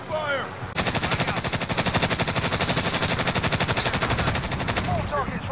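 Sustained rapid automatic gunfire in a video game shooter, a loud, steady burst of machine-gun fire lasting several seconds, with brief radio-style voice chatter at the start and end.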